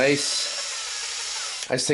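A power drill with a small bit bores through walnut, whirring steadily for over a second before briefly stopping and restarting; a voice is heard at the start.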